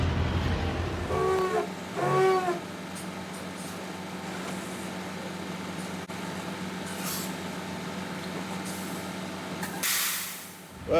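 A semi truck at a loading dock while its trailer tandems are slid back into place: a low idling engine hum with a sharp air hiss and whine early on, and another hiss burst near the end.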